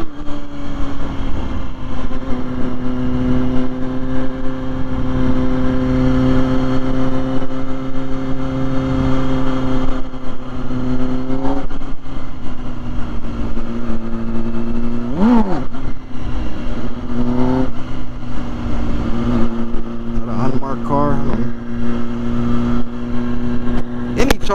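A 2006 Kawasaki Ninja ZX-6R 636 motorcycle engine droning steadily under riding wind, with a few quick rev swells and pitch rises near the end, heard from the rider's position.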